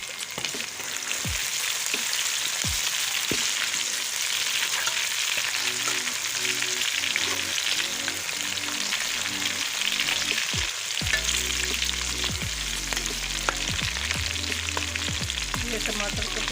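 Chopped green chilies sizzle and fry steadily in a pan for an aloo matar pulao, with clinks and scrapes of stirring and a louder burst of sizzling toward the end; no talking.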